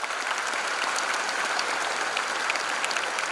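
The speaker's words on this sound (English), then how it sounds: "Give them a big applause." Dense, steady applause from a large audience at a college freshers' induction program: continuous crowd clapping at an even level with no pauses.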